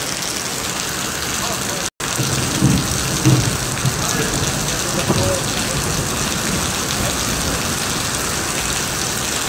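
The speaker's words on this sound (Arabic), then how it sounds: "مطر خير يا رب." Heavy rain pours down steadily in Basra, a dense continuous hiss that is loud and close throughout, broken by one very brief gap near the start.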